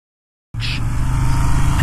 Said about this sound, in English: now we have a car coming